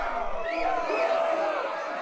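A crowd in the Neverwinter Nights 2 arena pit cheers and roars in one brief swell, moderately loud and unbroken, with no voices speaking over it.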